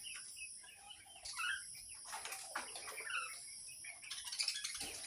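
Caged budgerigars and talking myna birds chirp and chatter in a busy, faint mix of varied calls, with some wing flutter and rustling.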